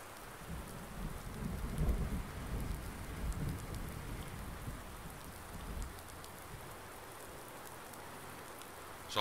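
In Farming Simulator 19 with the Seasons mod, a thunderstorm rolls on: continuous rain hisses steadily while deep thunder rumbles low through the first half, then fades to rain alone.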